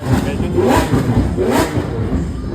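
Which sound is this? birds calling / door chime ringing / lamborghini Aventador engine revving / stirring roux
lamborghini Aventador engine revving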